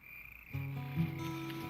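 Several frogs croak in a loud, close chorus that starts abruptly after a brief near-silent moment and continues steadily, with low throaty pulses and a sustained higher tone above them.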